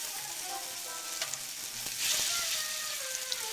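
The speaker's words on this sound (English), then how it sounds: "I'm going to let that sizzle there" Zucchini frying in a pan produces a steady, close sizzle with a constant bright crackle and a few small pops, heard alone.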